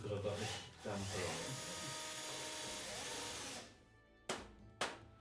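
A power drill fitted with a damper runs steadily in a workshop on a WWI Bristol Scout rebuild, a close whining buzz that falls away, then two sharp clicks follow, with no talk over it.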